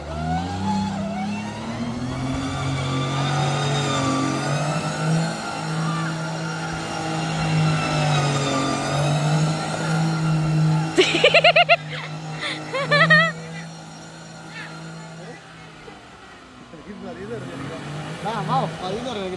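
A bus engine revs steadily and loudly in the foreground, its rising and falling pitch sustained over most of the stretch before easing off, with people talking over it and a few sharp knocks near the middle.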